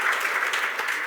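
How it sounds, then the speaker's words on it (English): Conference audience applauding at the close of a talk, a dense, steady clapping that fills the room, loud and continuous with no talk over it. "Давайте попробуем поаплодировать,"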